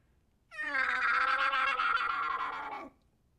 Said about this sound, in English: Whoa, it sounds like a kitty cat.